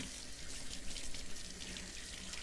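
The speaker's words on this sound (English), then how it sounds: "So I'll rinse my fingers." A kitchen tap running while fingers are rinsed under it, giving a steady, faint hiss of flowing water splashing into a sink throughout.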